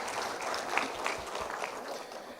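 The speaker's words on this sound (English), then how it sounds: "Please, a round of applause to yourselves." A crowd applauds steadily, a dense wash of many hands clapping at moderate volume throughout.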